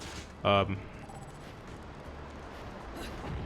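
A single sharp blast from shotgun nunchucks fires in Bayonetta, loud and brief over low game ambience, followed by quieter mechanical clatter.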